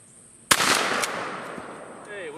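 A single sharp gunshot cracks close by at targets on an outdoor range, followed by a short echoing tail and a couple of fainter after-sounds, with quiet background tones.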